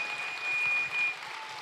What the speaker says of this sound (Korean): 자, 우리 피아니스트에게도 다시 한번 큰 박수 부탁드리겠습니다.